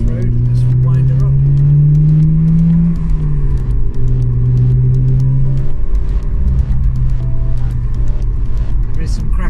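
Mazda RX8 rotary engine with a sport exhaust pulling hard on a country road, a loud steady drone rising and falling in pitch as it accelerates, with engine rumble throughout and talk faintly underneath.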